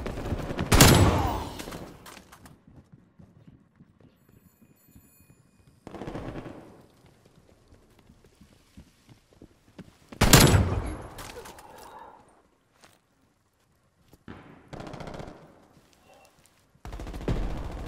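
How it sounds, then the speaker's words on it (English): Enemy sentry turrets firing in Call of Duty Black Ops Cold War, loud bursts of rapid automatic fire in several separate volleys with quiet gaps between them, close and harsh. "Multiple enemy sentry turrets active."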